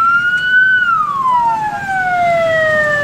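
Ambulance siren stuck in a political rally traffic jam in Barabanki, a loud close wail sweeping up and then sliding down in pitch, with faint traffic rumble beneath.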